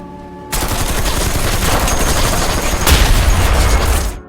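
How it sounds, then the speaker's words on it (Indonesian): Loud, dense rapid gunfire shooting at sea mines crackles nonstop for about four seconds, close and harsh, with heavier bursts near the end before cutting off abruptly. "Mereka tinggal memotong ranjau laut tersebut dan menembaknya hingga ranjau-ranjau itu meledak."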